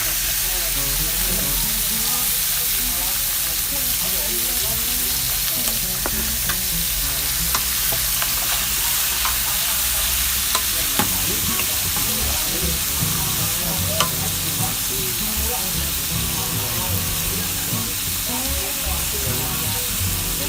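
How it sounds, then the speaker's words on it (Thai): Pork stir-fried over medium heat crackles and hisses steadily in the pan for the full stretch, with scattered spatula scrapes up close and a voice faintly heard now and then. "เราจะลวนหมูให้สุกไว้ก่อนนะครับไฟกลางๆนะครับ"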